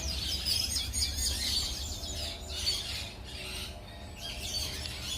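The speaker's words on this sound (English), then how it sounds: "Oh, we got some birds behind there." Birds chirp and squawk repeatedly in a Barbados nature park, in clear, fairly close bursts over steady outdoor ambience.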